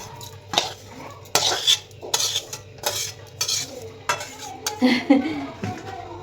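A spoon scrapes and knocks around a cooking pot as vegetables and sugar are mixed into hot rice. The strokes are repeated and uneven, close and fairly loud, with a faint voice now and then.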